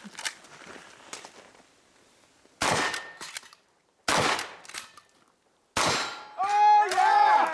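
Shotgun blasts at an outdoor action shooting match, several sharp loud reports spaced a second or so apart with echoing tails and clanging steel targets, alongside clattering handling noise, followed by a brief excited shout.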